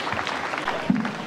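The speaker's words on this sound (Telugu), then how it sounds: "గట్టిగా చప్పట్లు" A crowd claps at a school sports event, a brief burst of dense, fairly loud applause with a faint voice cutting in near the end.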